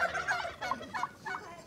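A turkey gobbles in several rapid bursts, fairly close and clear, with a barnyard setting around it and no talk over the calls.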